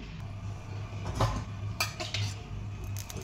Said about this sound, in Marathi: त्यानंतर इकडं कणी चाळणीत पुरण वाटून घेऊया.